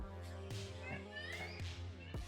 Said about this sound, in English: We got kids playing outside.